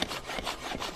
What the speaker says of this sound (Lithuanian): O ką čia pjaunat?